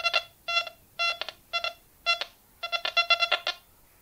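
Metal detector target tones through the Quest Go app, a series of short electronic beeps in a quick uneven rhythm, some single and some in rapid clusters, clear and close with no talk.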